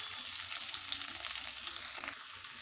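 Onion and garlic fry in mutton fat with a bright, steady sizzle and crackle, close and fairly quiet, with small pops scattered throughout.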